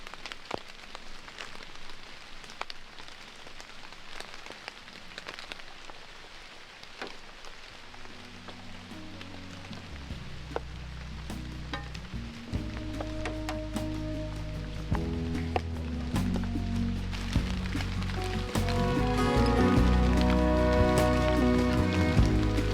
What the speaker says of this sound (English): you can hear the rain on the leaves